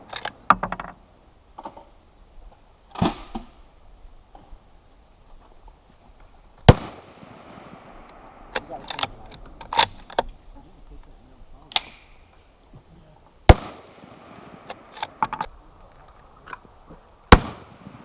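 A .22 rifle with a threaded barrel fires a series of sharp, loud single cracks at irregular intervals, each with a short echoing tail, over faint background noise.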